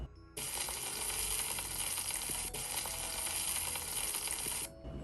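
Steak searing in a hot pan, browned on all sides for a garlic butter steak dinner, gives a loud, steady broadband sizzle that starts abruptly, holds for several seconds and then cuts off.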